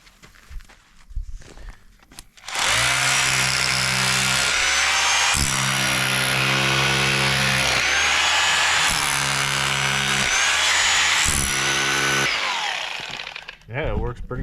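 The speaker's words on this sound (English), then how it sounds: "mini jackhammer here for busting tile up" Mini jackhammer chiseling through a floor for a trench, busting up tile: a loud, continuous hammering roar that starts abruptly after a few seconds of quieter handling, runs steadily with brief dips, then stops near the end.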